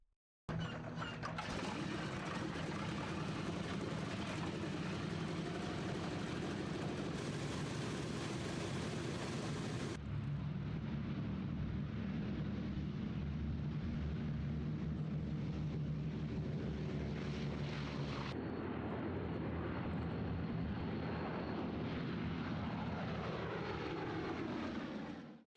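Boeing B-17G World War II bomber with four 1,200-horsepower Wright R-1820-97 radial engines starting up, then a loud sustained propeller roar through takeoff and a flyover that drops and changes pitch as the aircraft passes, with no talk.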